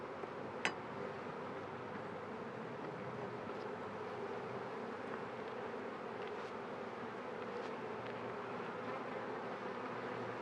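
Honeybees hum steadily around an opened hive during a hive move, a continuous close buzzing drone that lasts throughout, with one sharp click near the start.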